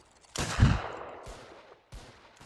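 Musket volleys crack out in Mount & Blade Warband during an Anglo-Zulu battle: one loud ragged blast that rolls away into echo, followed by two quieter distant shots.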